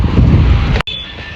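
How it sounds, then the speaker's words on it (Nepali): Strong wind roars across a rooftop as a loud, steady rushing buffet that abruptly cuts out, then settles to a quieter breezy hiss with a faint thin tone. "हेर्नु कति हावा आइरहेछ"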